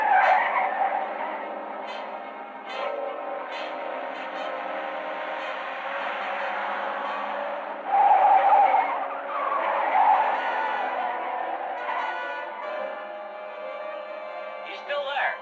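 A truck swerving hard to shake off a man riding on its roof, with repeated loud tire skids and squeals rising and falling in bursts over a running engine.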